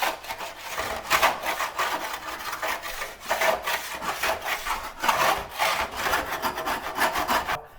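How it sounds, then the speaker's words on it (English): A utensil scrapes browned fond off the bottom of a pan while making ramen broth, producing loud, close, rhythmic rasping strokes in quick repeated bursts with short pauses between them. "you can see I'm really scraping this fond off of this pan"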